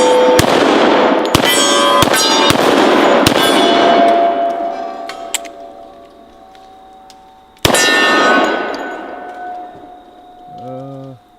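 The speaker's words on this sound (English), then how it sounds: "I'm just gonna shoot some of the close targets here." A Double 1911 pistol fires a rapid string of sharp, loud shots that clang off close steel targets, the rings decaying after each hit, followed by another shot and clang a few seconds later.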